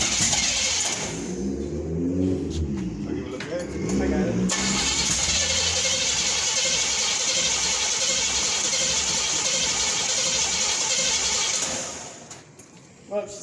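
A 1968 Pontiac Firebird convertible engine cranks with a grinding starter for a few seconds, then fires and runs loudly with a rough, steady roar before cutting out near the end.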